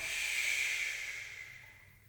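Slow, deep belly breath drawn in and let out during a guided yoga shoulder-opener session, a soft airy hiss swelling then fading over a couple of seconds, close and quiet with no talking.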